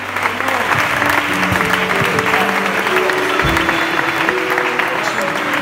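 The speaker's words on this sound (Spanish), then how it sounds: "Dale un fuerte aplauso al Señor" A church congregation claps loudly and steadily, a dense, continuous applause filling the room with a few voices mixed in.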